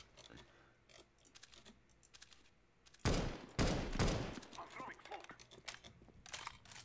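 Automatic rifle fire from a CS:GO match rattles in two loud close bursts midway, among lighter clicking of keys and mouse, with brief quieter shots before and after.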